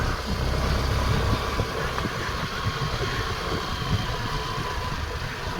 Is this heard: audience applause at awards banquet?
no